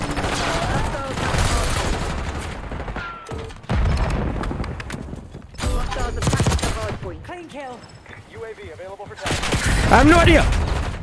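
Gunfire in the video game Black Ops 6: bursts of rapid shots in several clusters, mixed with talking from players throughout.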